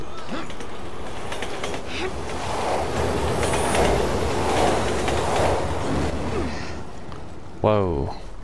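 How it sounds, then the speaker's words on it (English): A train rumbles past with a continuous rolling clatter and rising, falling wheel noise in the Resident Evil 6 video game, while players talk over it, ending with a brief squeal. "How are the trains still running?"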